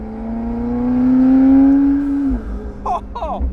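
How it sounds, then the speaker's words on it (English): A tuned 1100 hp McLaren revs hard in first gear, its loud exhaust rising in a sustained strained wail close by, then cutting off into brief crackles and pops, with no talk over it. "let's lower that back window so we can hear more of the sounds of the exhaust."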